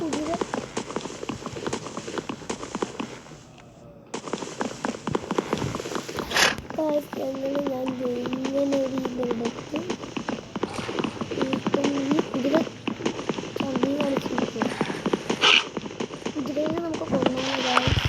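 A Minecraft horse walks with steady hollow clip-clop hoofbeats throughout, close and even, under almost constant talking from a player.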